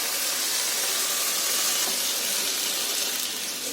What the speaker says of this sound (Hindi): 1 गिलास मैंने पानी डाला, एक छोटा सा गिलास।